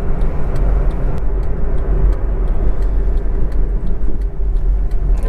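A car on a busy road slows down, heard from inside as a loud, steady low rumble of engine and road noise with faint regular ticking of a turn signal.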